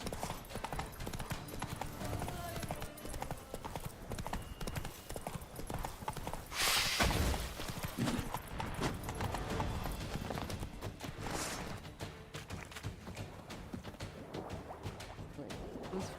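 Roach, a horse in the video game Witcher 3, gallops with a rapid, steady clip-clop of hooves; the near, continuous rhythm runs throughout, with a brief louder burst partway through.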